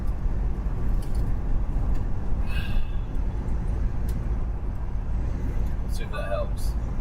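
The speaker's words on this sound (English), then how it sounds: "The rattling in the truck drives me completely, utterly bonkers now." Inside a moving truck cab on a long-haul highway drive, a constant loud engine and road rumble with vibration runs throughout, and scattered rattles and clicks sit over it.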